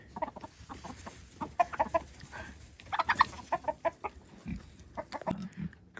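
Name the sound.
chickens clucking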